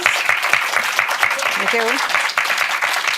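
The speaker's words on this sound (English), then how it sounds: "Let's give her a round of applause." An audience applauds a featured speaker at a monthly writers' association meeting, with steady dense clapping running throughout and a voice talking over it.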